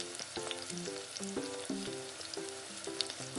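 Fried potatoes tipped into sizzling masala in a pan for rui fish kalia, a busy sizzle with clattering contact sounds and scattered tonal clinks from utensils, moderately quiet and without talk.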